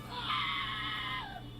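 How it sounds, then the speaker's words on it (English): A Minecraft goat lets out one drawn-out scream lasting about a second, loud and alone over faint background noise. "The goat screamed and sent him off the cliff."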